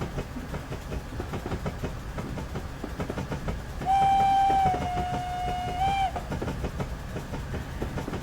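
A steam whistle from an SDJR 7F 2-8-0 locomotive in Train Simulator Classic gives one clear, sustained blast of about two seconds, with a slight pitch dip. It sounds over a rhythmic chuffing, rolling train.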